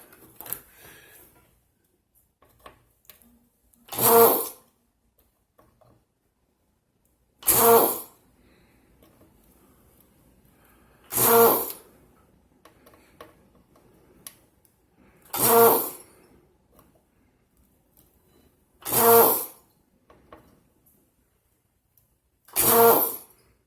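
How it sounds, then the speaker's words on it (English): A desoldering iron run by foot pedal pulls solder from sockets on an arcade Pole Position circuit board, giving six sharp, evenly spaced bursts of suction hiss, each about a second long, with quiet pauses between and no talk. "let me get my desoldering iron. Get my foot pedal ready."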